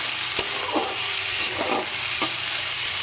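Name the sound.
onion, capsicum, carrot and tomato frying in a pan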